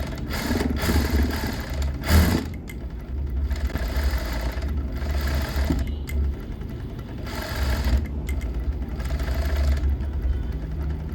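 A sewing machine runs steadily while stitching piping onto a blouse neckline, with a close, continuous motorized whir that briefly pauses and restarts several times.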